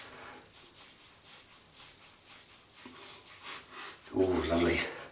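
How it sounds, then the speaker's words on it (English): Face scrub with a sandalwood and clove scent rubbed between the hands, a soft, close, continuous rubbing that swells louder near the end, with faint breathing. "So I'm going to rub it in my hands."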